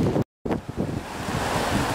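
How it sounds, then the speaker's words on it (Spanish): Rushing, turbulent river water running fast in sleety, snowy weather in the Campoo area, a loud, continuous roar with wind buffeting, briefly cut off near the start. "fíjense con qué virulencia baja el agua, un agua muy brava"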